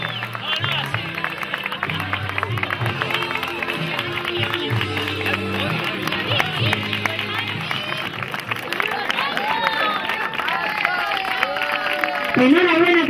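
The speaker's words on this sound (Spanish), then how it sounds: "fuerte aplauso para ellos" Crowd applause for provincial champions at an outdoor race award ceremony in Serón, Almería, a continuous clapping patter under loudspeaker music and crowd murmur.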